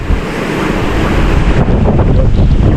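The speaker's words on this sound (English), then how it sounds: "You can probably hear it's getting pretty windy." Strong wind gusts roar steadily across the microphone on a hike among trees, a loud, continuous broadband rush with no talking.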